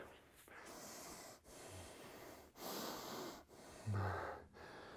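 Heavy, labored breathing of a person recovering between sets of a full-body gym workout: several long, loud breaths close to the microphone, each separated by a short pause, with snort-like exhales.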